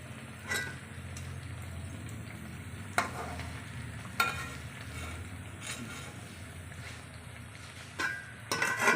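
Batter-coated leaf pakoras fry in mustard oil with a steady, moderate sizzle, broken by a few sharp clinks and stirring scrapes in the pan.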